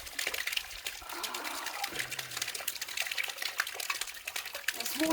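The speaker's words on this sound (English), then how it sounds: "like a bit of a waterfall" Water flowing like a small waterfall somewhere in Namibia, a steady faint splashing rush heard close and alone, without speech.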